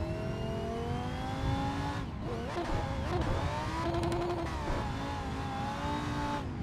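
A Lamborghini set up as a drift car in a racing video game, its engine revving steadily and loud throughout, with pitch sweeping up and down through gear changes and brief tire squeal, no talking.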